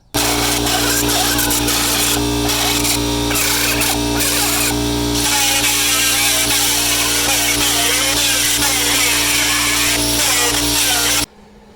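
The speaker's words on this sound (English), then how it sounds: "I'm just going to finish this weld and then move on to the other side" Welding on the inner cab corners of a 1960 Ford F100 pickup produces a loud continuous crackle and buzz with several brief breaks early on, then a steady run that cuts off abruptly.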